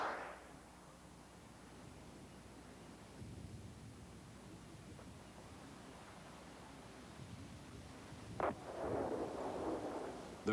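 A Bill RBS-56 missile strikes a fully armed tank, a sudden sharp blast near the end followed by a sustained roaring rumble of burning and secondary explosions over a steady background hiss.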